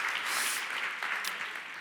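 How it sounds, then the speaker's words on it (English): Faint, scattered clapping from an audience at a mental health strategies and policy-making session, a soft continuous patter without talk. "let's give another applause"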